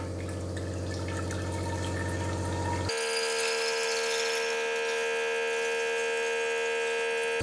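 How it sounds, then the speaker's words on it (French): Arka myAqua1900 reverse osmosis unit switched on at a tap, a steady loud hiss of water flowing with a sharp change partway as a mechanical hum gives way to a higher whining rush, continuous and close. "L'osmoseur est branché au robinet, on l'allume."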